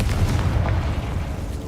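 A Confringo spell explodes in the Hogwarts Legacy game, a dense, loud low boom that rumbles steadily for under two seconds with no clear separate bursts.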